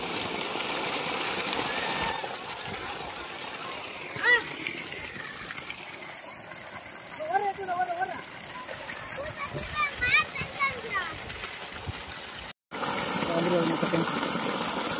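Water gushes and splashes from a 3hp JM Tamilminnal solar water pump running on five 550-watt panels, a steady rushing flow with an engine-like hum and voices talking over it.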